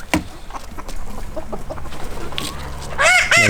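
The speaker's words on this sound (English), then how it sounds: "Ancona rooster, also not a bad one." An Ancona rooster, still quite young, gives a loud, close crow near the end, preceded by soft clucking and scattered barnyard fowl sounds.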